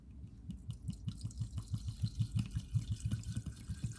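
Rum from Kirk & Sweeney poured into a jar of vanilla beans, a steady gurgling glug of liquid with a regular pulsing rhythm, close and fairly quiet, with no talking over it.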